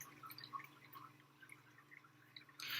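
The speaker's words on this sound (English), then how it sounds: "I've got water coming out of the pump, but Sandy and Squidward aren't fully submer" A small fish tank pump sends water out in quiet, scattered drips and trickles, faint and close, ending in a brief louder gush.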